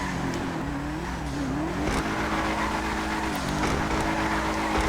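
An Albany V-STR drifts in GTA Online, its engine droning and shifting pitch as it slides through turns, with steady loud game car noise throughout.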